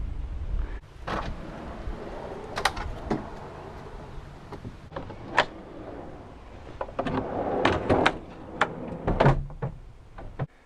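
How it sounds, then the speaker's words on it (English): RV storage drawer being slid out, with scattered sliding scrapes, knocks and clunks at close range, irregular and fairly quiet, with a final rattling bump. "I've got the drawer slid out,"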